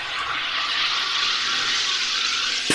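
A sparkling water maker carbonates reverse osmosis water in one steady, loud hissing rush of gas and bubbling liquid that runs for a few seconds without pause, close to the listener, with no voices.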